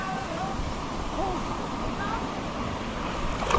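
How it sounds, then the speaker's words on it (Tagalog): Strong current of cold mountain river water rushes in a continuous broad roar close by, with excited voices and outdoor wind mixed in throughout. "Ang lakas ng agos!"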